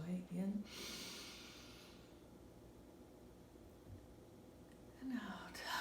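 Slow, deep breathing during a guided relaxation exercise: a long, airy inhale and exhale through the nose, framed by brief soft murmurs from a nearby voice. The breaths are hushed and close to the microphone.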